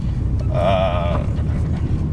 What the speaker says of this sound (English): I'm hearing some metal along the rotor.